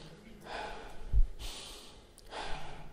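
A person draws an audible breath in during a meditative prayer demonstration, a soft airy inhale with a brief gasp-like swell, repeated twice over a few seconds, close to the microphone.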